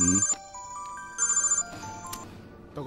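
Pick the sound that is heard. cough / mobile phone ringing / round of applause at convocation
mobile phone ringing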